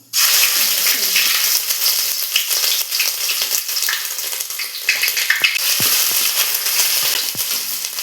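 Mustard seeds and ginger fry in hot coconut oil for a beef curry, a loud, continuous close sizzle dotted with sharp pops and crackles from the seeds.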